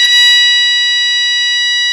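A smoke alarm shrills loudly during a weekly system test, a steady high-pitched electronic tone that holds unbroken for the full two seconds.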